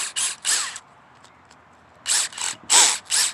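A DeWalt Extreme 12V series cordless drill whirs in short, loud bursts, spinning up and stopping repeatedly with brief quiet pauses between runs.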